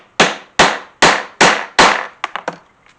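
Five sharp, evenly spaced hammer blows drive a punch through holster leather over a board to make a rivet hole, followed by a few lighter, quicker taps, loud and close with no voices.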